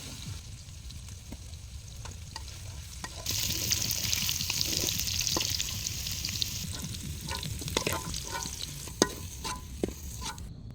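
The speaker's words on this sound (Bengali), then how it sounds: "এই যে সবজিগুলো ভাজা হয়ে গেছে" Winter vegetables fresh from the field fry in a pan with a steady sizzle that swells louder partway through, with scattered stirring scrapes and clinks over a low background rumble.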